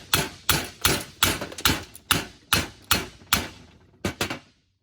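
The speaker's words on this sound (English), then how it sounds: "Get the old hammer, give her a few pow-pows." About a dozen sharp, ringing hammer blows land on a junkyard HEMI engine, close and loud, in a steady rhythm of roughly two per second before stopping abruptly.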